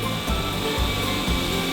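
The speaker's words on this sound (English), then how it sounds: "I'm just going to drill a little hole" A power drill bores a small hole in wood while a birdhouse is being built. It gives a steady, close whirring grind with slight pulsing as the bit bites.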